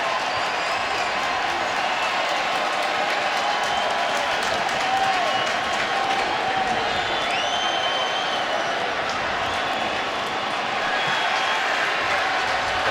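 A large football stadium crowd at an LSU versus BYU game roars and cheers steadily for several seconds on a 4th-and-goal play, loud and sustained with a dense rumble of voices.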